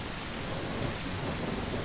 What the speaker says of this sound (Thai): ฝนตกหนักมากเลยเนี่ย